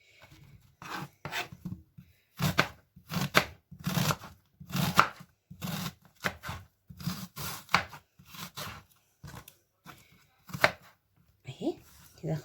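Onion is sliced very thin with a knife on a board, giving a run of quick rhythmic chopping bursts, close and clear, with short pauses between strokes.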